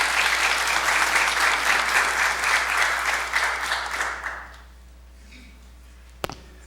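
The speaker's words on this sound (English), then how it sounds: "let's give them a big round of applause" Audience applause at a manufacturing industry briefing, a dense round of clapping that holds steady, then tapers and dies away, followed by near quiet and one sharp knock near the end.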